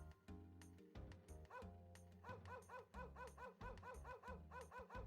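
A dog barks in the Wild ARMs video game, several short yipping barks repeating in a quick rhythm over steady game music, fairly loud and with no talk.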